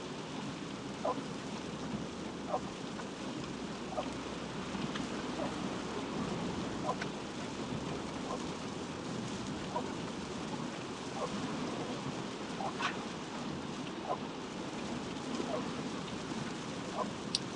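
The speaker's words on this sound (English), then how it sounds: "It is definitely a rainy day here." Rain falling outside on a rainy day, a steady soft hiss with scattered drip ticks and a low rumble underneath, heard at a distance with no talking.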